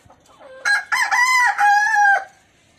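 Desi chickens on a poultry farm with caged laying hens, one rooster crowing loudly and close in a long drawn-out call, with soft clucking just before it.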